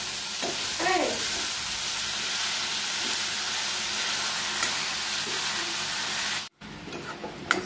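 A fish head is added to a hot frying pan with vegetables and sizzles loudly and steadily, a dense close hiss with brief stirring clinks, cut off by a short drop near the end.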